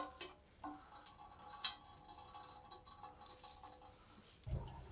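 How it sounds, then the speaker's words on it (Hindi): Water drips faintly from handfuls of squeezed grated white radish (mooli) in a home kitchen while paratha filling is prepared: soft, scattered drips with a slightly louder splash near the end. "तो इसी तरह आप सब मूलियाँ निचोड़ लेंगे।"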